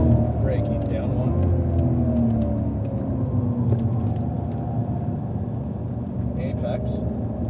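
Cadillac CTS-V on a racetrack braking hard and downshifting, its engine a loud, steady rumble from inside the cabin with shifting revs, an instructor talking over it throughout.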